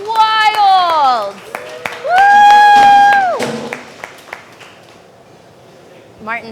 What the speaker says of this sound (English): Yes, the crowd goes wild!